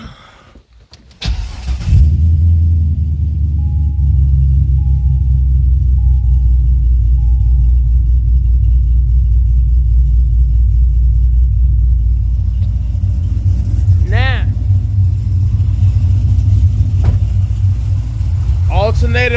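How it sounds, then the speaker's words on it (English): A car engine starts with a short crank, then idles loud and close with a deep, steady rumble and a shaking, uneven beat attributed to the camshaft, while a brief higher whine rises near the end. "Alternator pumping. Belt on good. Motor shaking from camshaft."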